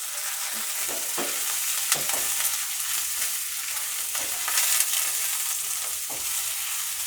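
Garlic paste sizzles and fries steadily in a pan, with soft scraping stirs recurring through the continuous crackle; no voices.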